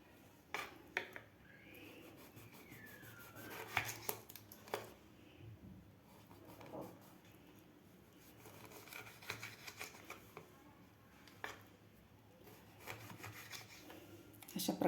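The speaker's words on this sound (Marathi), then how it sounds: "एका लिंबाच्या आपल्याला 8 फोडी करून घ्यायचे आहेत. अशा प्रकारे यामधलं पूर्ण बी काढायचं आहे आपल्याला." A knife cuts lemons into eight pieces and the seeds are removed, making faint, irregular scraping and tapping on a cutting surface, quiet and close, with no talk.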